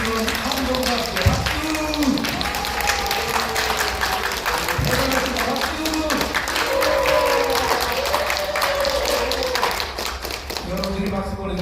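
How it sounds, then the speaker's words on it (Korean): An audience at a commemorative national ceremony claps and cheers loudly and without a break, with speech from the stage running over the applause. "이 박수와 함성은 언제 들어도 좋아요"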